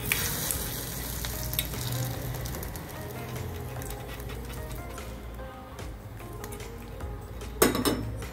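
Tempering spices sizzling and frying in a pan of hot oil for a plantain peel and green gram stir-fry, a steady crackle with occasional stirring clinks, close and alone.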